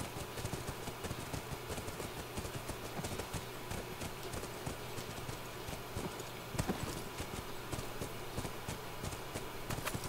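Horse hooves clip-clop in a steady walking rhythm in the video game The Last of Us, close and continuous, with faint background ambience and no talking.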